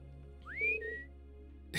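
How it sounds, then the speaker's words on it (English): Whistling in the Trails of Cold Steel video game: a single rising then level whistled phrase over a steady low game hum, clear and moderately loud, with no talking. "Innocent whistle, anything but innocent."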